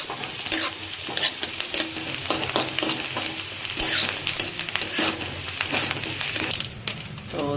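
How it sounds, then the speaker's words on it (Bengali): Onions frying and being stirred in a pan for Indian-style pasta, with steady close sizzling and repeated scraping stir strokes throughout, no talking. "এখানে দেখুন পেঁয়াজে ভাজা হয়ে গেছে"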